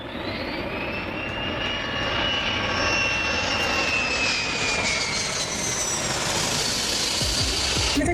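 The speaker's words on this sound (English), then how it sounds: "Here comes your air tanker." A McDonnell Douglas DC-10 air tanker on a firefighting mission flies over with a loud, sustained jet-engine roar and a sweeping whine that holds steady as it passes.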